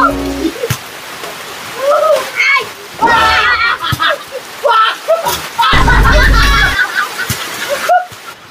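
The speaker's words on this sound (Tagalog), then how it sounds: "Tamo umuulan." Rain falls during an outdoor basketball game, splashing and splattering in bursts beneath frequent lively talk and shouting from nearby people.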